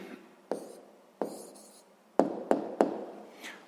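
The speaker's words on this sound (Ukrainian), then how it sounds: "Ну що ж, записуємо відповідь." A pen writes an answer on paper, soft scratchy strokes with a few sharp taps as the tip meets the page, close and quiet with brief pauses between marks.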